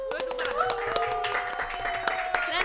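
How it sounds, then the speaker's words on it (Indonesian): Podcast hosts clap together to celebrate their first episode, a short burst of close, scattered hand claps mixed with drawn-out vocal cheering or whooping. "Semuanya tepuk tangan."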